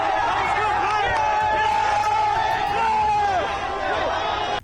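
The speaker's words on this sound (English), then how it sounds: "Kai got absolutely mobbed as soon as he got out of the car" A dense crowd of fans mobs streamer Kai in Union Square, a continuous loud babble of chatter, shouts and whoops close around.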